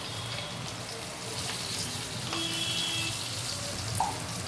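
Sliced bitter gourd frying with turmeric and salt in a pan over a medium flame, a steady, moderately loud sizzle that holds evenly throughout with faint stirring scrapes.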